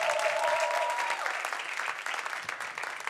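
A church congregation applauds the worship team with a loud, full round of clapping that slowly thins. A brief tonal sound rises at the start and faint voices sit beneath.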